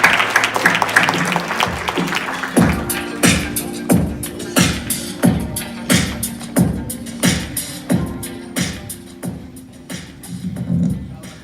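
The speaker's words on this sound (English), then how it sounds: "please give a round of applause for Anthony" Audience applause after a speaker is introduced at a Martin Luther King march event at Old Dominion University, with loud claps and shouts at first, then a steady rhythmic clapping pulse that continues through the clip.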